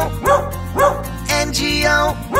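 Four short, bright "woof" barks set to a steady nursery-rhyme beat over a music backing, with the bark sounds likely performed or sampled in a song for children.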